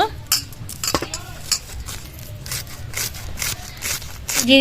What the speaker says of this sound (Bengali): এবার বাঁধাকপিটা খুব জিরি করে কুচিয়ে নেব